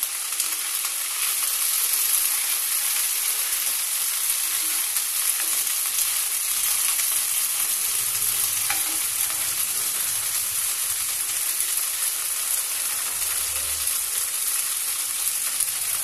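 Boiled corn stir-fried in a hot pan for a corn and mushroom mixed veg dish, giving a steady, close hiss of sizzling with faint stirring scrapes, continuous and without talk.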